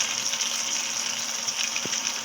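Curry leaves frying in a pan while chutney is prepared, giving a steady broadband sizzle and hiss that runs unbroken and fairly loud with no voices over it.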